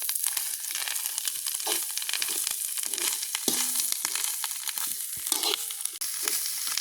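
Green chillies and onions fry in a pan, a bright, continuous sizzle with scraping and stirring knocks close at hand.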